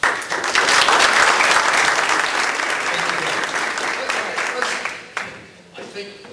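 A hall audience at an electric cooperative board candidates meeting breaks into loud, sustained applause, dense and steady for about five seconds before thinning into scattered claps and fading out.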